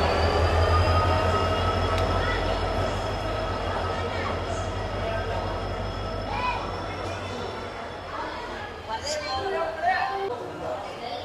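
A train on the Sakleshpur to Subramanya Road line hums and rumbles steadily up close with doors open, a faint squeal of wheels and distant murmur of people in the background.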